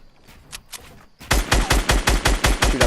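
Rapid automatic gunfire in Fortnite Battle Royale, a few scattered shots at first, then a loud, steady burst of about ten evenly spaced rounds, close and without talk.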